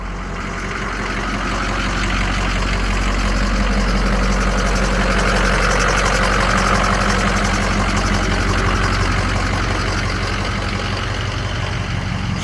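A hotshot pickup truck hitched to a fifth-wheel car-hauling trailer idles loudly and steadily up close, a continuous low engine rumble with no talking.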